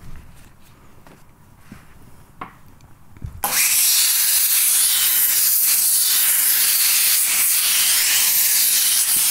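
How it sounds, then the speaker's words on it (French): Hot iron pressed onto wet felt on a hat mould, with a sudden loud hiss of steam erupting after a few soft handling taps and rubs, then a continuous, close, steady steaming. "on vient appliquer le fer sur le moule"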